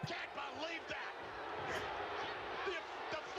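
A wrestling crowd roars and shouts continuously from a played-back match, a dense, steady wall of arena noise with a voice talking over it throughout.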